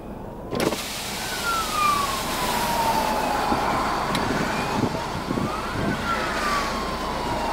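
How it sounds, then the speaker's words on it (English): A distant emergency siren wails in slow rising and falling sweeps above a steady rumble of road noise from inside a moving Holden Malibu turbo diesel. "There's a siren somewhere, where's that?"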